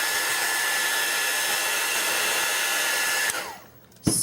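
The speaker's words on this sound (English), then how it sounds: "So I'll just hit it with the heat gun on the back side." A heat gun blowing hot air onto the back of a piece to dry it, a loud steady whooshing roar that shuts off near the end, winding down before a brief clunk.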